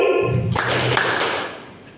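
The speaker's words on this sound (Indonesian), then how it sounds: "Tepuk 2 kali." A group of people at a school clap their hands together about twice in quick succession, brief close claps after a spoken instruction, then fading into room noise.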